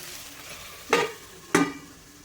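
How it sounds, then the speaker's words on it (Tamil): Bitter gourd sautés in oil with a soft background sizzle, punctuated by two distinct stirring scrapes about half a second apart, close and moderately loud. "இன்னும் ஒரு 2லேருந்து 3 நிமிஷம் வரைக்கும் எண்ணெயிலே நம்ம வதக்கிக்கலாம்"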